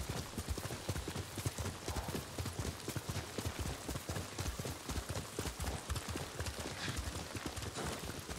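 A horse's hooves clip-clop in a rapid, even rhythm as it travels through the samurai game Ghost of Tsushima, the hoofbeats loud and close with a faint rainy hiss behind them.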